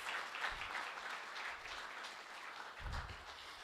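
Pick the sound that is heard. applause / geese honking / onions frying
applause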